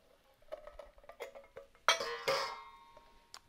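Canned lima beans tumbled into a pot for succotash, with scattered clinks and scrapes, then a louder rush of beans hitting metal and a brief stir, close and without talk.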